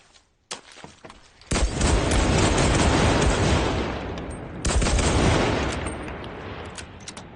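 A gun fires in the Enlisted video game on a German development server: a brief shot, then a loud, sustained burst of rapid automatic fire that dips and surges again for several seconds, heard alone without talk.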